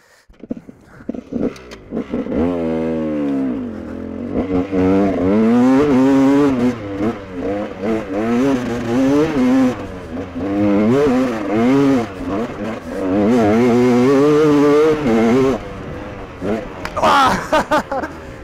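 A freshly repaired GasGas motorcycle ridden hard through woods, its engine loud and close, revving up and down in rapid swoops with brief throttle drops and a clattery edge throughout.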